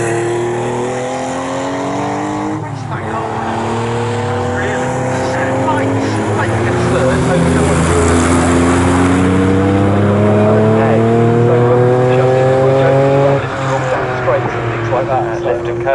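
Porsche 911 race cars roar around the Snetterton circuit, loud sustained engine howl with rising and falling gear changes as cars pass, under a commentator's voice.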